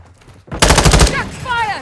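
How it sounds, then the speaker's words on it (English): Heavy automatic gunfire in Call of Duty: Modern Warfare II, a loud close burst of rapid shots after a quiet start, followed by synthetic game voice cues and tones. "Shot fired!"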